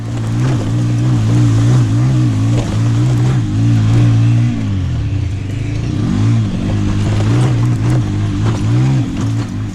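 An auto rickshaw engine drones steadily and loudly on a water-damaged mountain road near Babusar Top, its low throttle note rising and dipping as it works over the broken surface.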